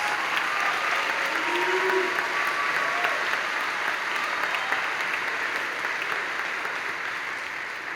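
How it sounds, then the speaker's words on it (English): Concert audience at a high school spring concert applauds honor choir students, a steady, dense wash of clapping filling the whole stretch and easing slightly toward the end, with no talk over it. "let's give them all a round of applause"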